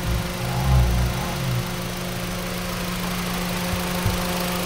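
Honda Brio engine idling steadily after an overhaul, a close, even hum with a slight swell early on and a faint knock or tick near the end, no voices.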